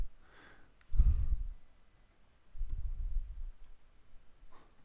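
A computer mouse clicks in animation software, a few distinct soft clicks spaced apart, close and fairly quiet, with no talking.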